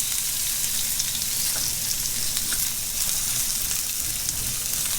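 Onion sizzling in heated oil in a pan for a stir fry, a steady, dense crackle that holds at an even level throughout with no talk.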